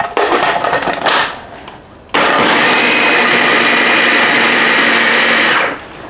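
A food processor blade chops cucumbers for sweet pickle relish. A short burst of whirring stops, and then a loud, steady motor whir runs for about four seconds before it cuts off.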